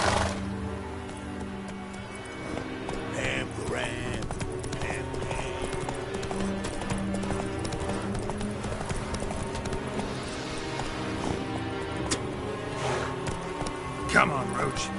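Roach, Geralt's horse in the video game The Witcher 3, clip-clops along at a steady gait under a layered game soundtrack and ambient effects, while voices talk at moments.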